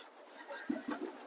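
Pigeons at a pilot farm give a few short, low coos in quick succession, close by against a faint background hiss.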